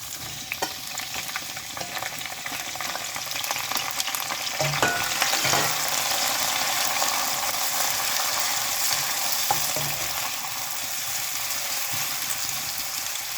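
Onions and dried chillies frying in a pan, likely in sesame oil: a steady, dense sizzle throughout, growing slightly louder midway, with scattered clicks and scrapes of stirring and no voices.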